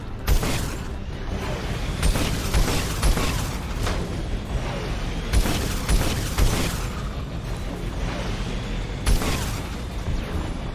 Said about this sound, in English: These guided missiles are really strong.